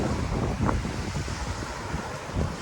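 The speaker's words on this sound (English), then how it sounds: "it's a windy one today, assuming remnants of this typhoon" Typhoon-remnant wind on a beach at Barrio Barretto roars steadily across the microphone, a dense, unbroken rush with gusty buffeting throughout.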